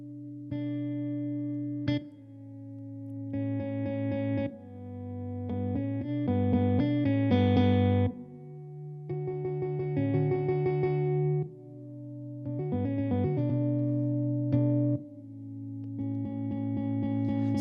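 Guitar played through an ambient effects pedal set to blocks mode 3, fully wet with no reverb, giving sustained chords in distinct blocks with layered repeats, moderately loud and alone.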